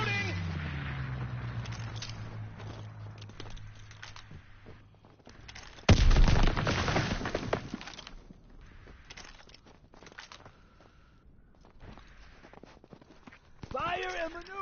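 A loud air strike explosion erupts midway through a Call of Duty WW2 hardcore team deathmatch on the Winter Siege map, after quieter footstep-like game noise, with a voice talking throughout.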